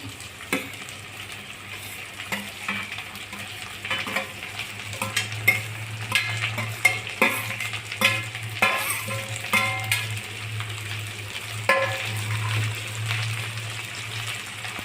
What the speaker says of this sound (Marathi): आता आपण भेंडी घालत आहोत. परतलेली भेंडी घालणे.